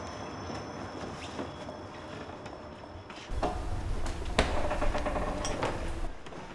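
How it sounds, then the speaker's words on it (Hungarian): A special train arriving: steady rumbling rail clatter that swells abruptly louder partway through, then rolls on with sharp metallic clanks. "Ébresztő vonat érkezett!"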